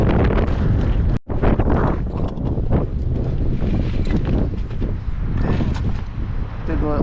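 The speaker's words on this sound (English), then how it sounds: "But it's windy." Strong wind roars across the microphone in heavy, continuous buffeting, loud and close, with a person talking underneath.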